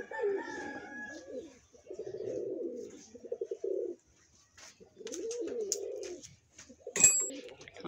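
Pigeons in a colony loft coo in repeated low, throaty rolls, several birds close by in overlapping bursts with short pauses, ending with a brief sharp sound.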